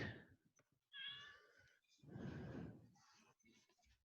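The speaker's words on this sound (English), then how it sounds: "I can hear a cat." A pet cat meows at home during an evening video call, brief high tonal cries near the start and around one second, with people talking over and around them.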